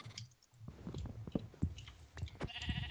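Sheep bleat repeatedly amid clicking and game-like clatter on a Minecraft-style multiplayer server farm, the calls fairly close and overlapping in a busy, cluttered scene.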